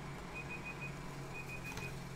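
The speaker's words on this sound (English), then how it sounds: "there's the timer." A timer beeps in a quick repeating series of thin electronic tones, two short bursts over a steady background hum, fairly faint.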